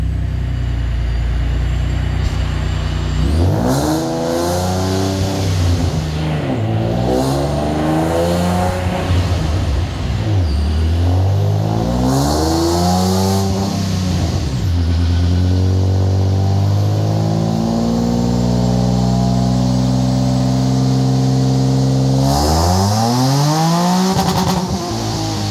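Procharger-supercharged 3.7L V6 Ford Mustang with carbon fiber and an APR wing, engine revving loudly and up close in several rising-and-falling sweeps, climbing to high pitch with sharp blips between pulls.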